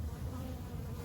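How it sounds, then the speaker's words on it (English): Honey bees collecting nectar from fruit fill the air with a steady, low droning buzz, many insects humming together close by and holding an even level throughout, with no voices over it. "These are all bees."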